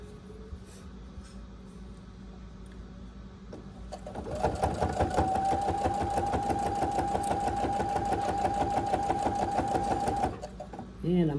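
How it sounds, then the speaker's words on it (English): A sewing machine stitches a fabric butterfly down, starting after a few seconds of quieter handling and running as a fast, steady, close-up mechanical rattle with a constant whine for about six seconds before stopping. "I did want to let you see me sew one of them down"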